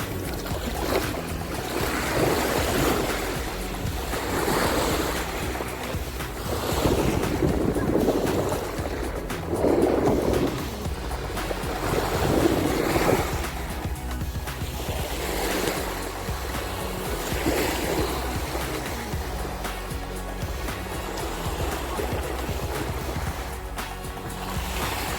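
Caribbean Sea waves wash onto the beach at Puerto Morelos, Mexico, in loud, rolling surges every few seconds, with steady wind buffeting the microphone between breakers.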